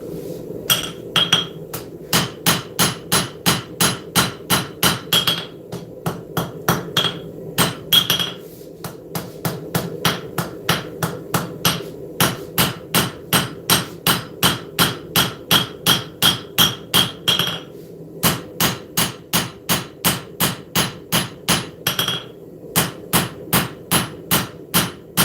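A hammer strikes hot steel while forging and refining a knife profile, in a long run of sharp, evenly spaced blows with brief pauses between bursts; no one speaks.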